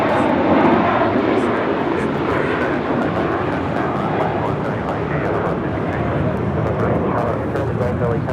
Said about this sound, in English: That's JetBlue Airways 524 taking off to JFK on an A321